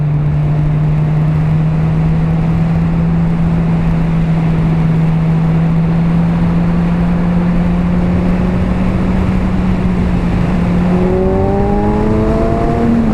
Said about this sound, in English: the stunning noise that this makes when it gets into high revs